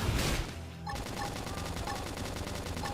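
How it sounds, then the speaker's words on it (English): A flame grenade goes off in Xenoblade Chronicles X: a sharp burst of noise opens, followed by a dense, rapid crackle of gunfire-like impacts that carries on steadily to the end. "Flame grenade."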